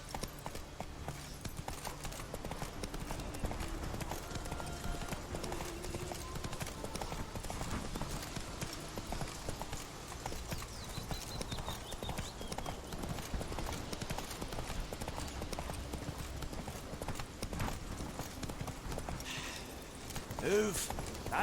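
Horse galloping in The Witcher 3: Wild Hunt, steady rhythmic hoofbeats clip-clopping at moderate distance throughout, quiet under game ambience with occasional voices.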